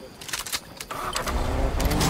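Car engine in Fortnite Chapter 2 Season 6, rising into a steady loud rumble after a few short clicks and clatters, with game effects over it.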